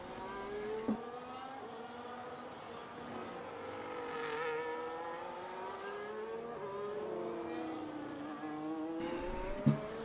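Race car engine on a lap in the F1 25 video game at Singapore, a continuous high whine rising and falling through gear changes and braking, fairly close and alone.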